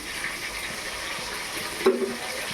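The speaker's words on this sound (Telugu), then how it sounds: "రెండు స్పూన్లు ధనియాలు కూడా వేసుకుంటాను" Coriander seeds dropped into a hot pan, a steady soft frying hiss throughout with one brief clink and stir near the end, close and moderately quiet.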